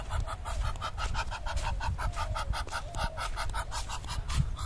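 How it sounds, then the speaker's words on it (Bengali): Chinese goose near a small water channel by harvested rice fields, calling in a rapid repeated series of loud nasal honks, close by, with no talk. "চীনা হাঁস।"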